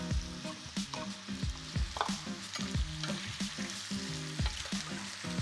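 Onions and potatoes frying in olive oil for Mexican papas, a steady sizzle under rhythmic scraping and clattering as they are stirred, near and with no voices.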